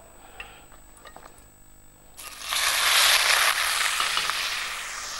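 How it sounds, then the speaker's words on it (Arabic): Grated onion dropped into hot melted butter, a sudden loud sizzle that starts abruptly and holds steady as the onion fries, with faint ticks and clinks before it. "الزبده هنروح حاطين البصل"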